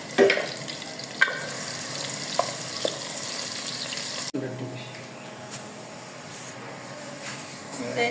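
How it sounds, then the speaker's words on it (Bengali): Chopped onions fry in a pan with a steady sizzle, interrupted by a few clinks of stirring, then the frying continues more softly after a brief cut. "পেঁয়াজগুলো আমরা একটু লাল লাল করে ভেজে নিব।"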